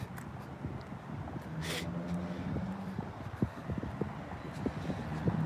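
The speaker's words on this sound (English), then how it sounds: "This car is really loud right now." A loud car passes along a city street, its engine rumble swelling and holding near the microphone, with wind buffeting and scattered knocks from the street around it.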